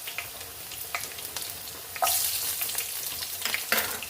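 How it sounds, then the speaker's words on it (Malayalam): Mustard seeds frying with small onions in hot oil for a fish curry, giving a steady close crackling sizzle that jumps louder about halfway through, with scattered pops and no talking. "ചെറിയ ഉള്ളി വെച്ച് തന്നെ അതിനെ കടുക് വറുക്കാൻ ശ്രമിക്കുക"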